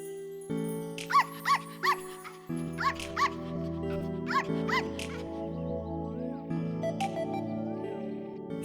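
A grown dog barks in a Tamil film scene, a run of short yaps in bursts over a steady sustained music bed, moderately close and recurring several times.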